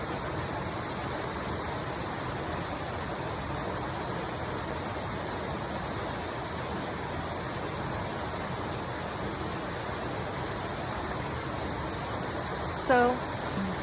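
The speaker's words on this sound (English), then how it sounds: "listen to the water" Steady rushing water flows continuously, a broad even wash like a fast stream or rapids, with a brief faint chirp near the end.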